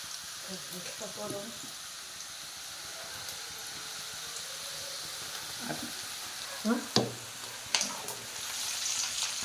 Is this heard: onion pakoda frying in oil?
yes